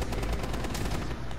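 Shotgun fire in Rainbow Six Siege, a dense rapid burst of loud gunshot blasts filling the whole moment, with no talking.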